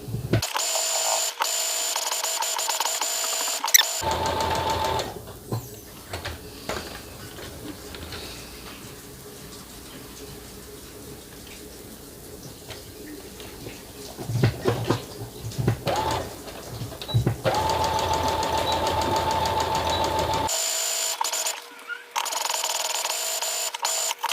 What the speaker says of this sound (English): We're going to start back stitching.